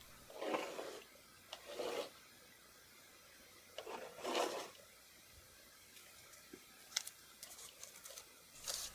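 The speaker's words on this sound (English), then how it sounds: "Now you have access to scrape away the dots left on the mat." Plastic scraper rasping leftover Braille dots off a Cricut cutting mat, heard as several short, close scraping strokes in bursts with quiet pauses between.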